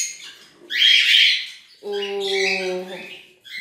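Harlequin pet birds call out nearby, a loud harsh squawk followed by a long, tonal, nasal cry, both close and clear with no talking.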